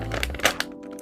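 Plastic action figure packaging being opened, a short burst of cracking thunks and crinkles at close range, fairly loud, with no talk.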